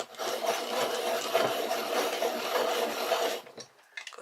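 A fat chartreuse coloured pencil is sharpened close by, a steady dry rasping grind lasting about three and a half seconds before it stops abruptly, followed by faint handling.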